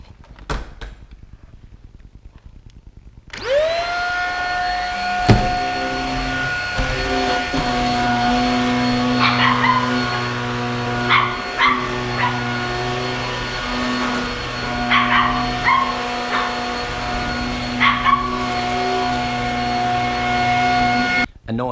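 An upright household vacuum cleaner switches on after a few seconds of near quiet and drones loudly and steadily, while a dog fires off sharp, scattered barks and yips close by.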